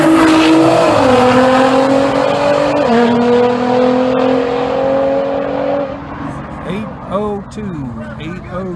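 An old C10 truck fitted with an LSX engine and nitrous roars down a dragstrip, loud sustained revving climbing through gear changes before fading as voices and cheering rise near the end.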